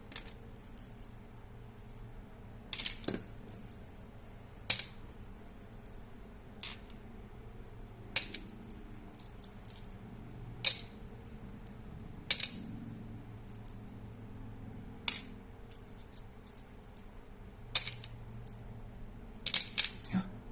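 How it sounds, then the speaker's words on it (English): Small metal screws and washers are sorted by hand, with sparse light clinks and taps scattered over a quiet background, some close together, others spaced seconds apart. "Some washers, anything round and flat with a hole. Goes with the washers."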